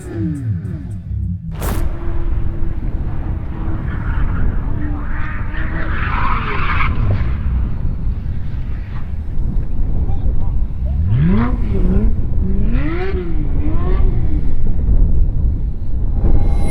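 A race car driving flat out on track on cold tyres roars past at speed, engine revving and tyres squealing, with loud broadband rumble and brief voices over the engine noise.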